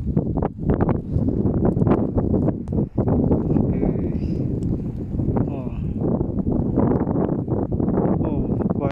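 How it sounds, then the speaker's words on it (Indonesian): Strong wind blowing steadily during a light snowfall outdoors, a loud continuous gusting roar with buffeting close to the microphone, a flag flapping nearby, and a person speaking over it. "Kuat angin tu."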